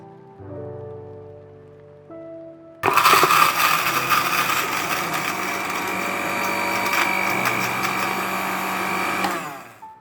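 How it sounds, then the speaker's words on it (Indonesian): A blender grinding candlenuts with cooking oil starts up with a loud, steady grinding whir that runs for several seconds, then cuts off; quieter appliance hum precedes it. "Kita blender dulu sampai halus."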